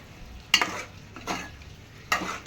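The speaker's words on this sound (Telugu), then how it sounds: "బాగా కలుపుకోండి" A spoon stirs a chicken curry and rice mixture in a pan over a low sizzle, with three distinct scraping sweeps, the first and last sharpest.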